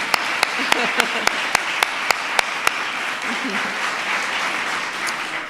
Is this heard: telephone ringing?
no